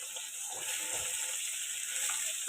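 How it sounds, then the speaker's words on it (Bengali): Fish, likely rohu, frying in a pan, giving a steady, dense hiss of sizzling oil that runs unbroken throughout at close range. "লাল লাল করে মাছ ভাজা"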